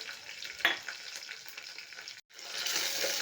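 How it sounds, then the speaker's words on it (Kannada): Garlic, curry leaves and green chillies fry in a pan with a steady, close crackling sizzle and scraping stirs, cutting out for a moment near the end before resuming. "ಇದನ್ನು ಚೆನ್ನಾಗಿ ಹುರ್ಕೊತಾ ಇದ್ದೀನಿ"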